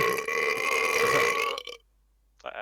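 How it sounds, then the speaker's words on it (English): A loud, long belch from a player at a Dungeons & Dragons tabletop session, rumbling close to the mic for about a second and a half before cutting to silence, with a brief faint sound at the end. "I just burped. Belched."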